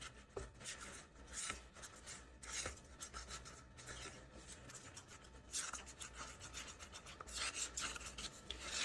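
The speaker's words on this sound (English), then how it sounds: "Scraping the sides of my cup." Scraping around the inside walls of a plastic epoxy resin mixing cup, a steady soft rasping rub with brief louder strokes, quiet and close, with no voices.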